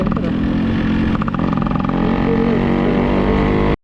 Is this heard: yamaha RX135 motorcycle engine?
yes